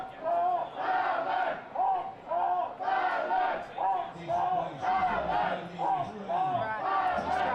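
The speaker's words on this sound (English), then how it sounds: "Lots of Finnish audience cheering up the girls." A Finnish crowd at a fighting event cheers and chants in loud, rhythmic bursts of massed voices, rising and falling steadily for several seconds.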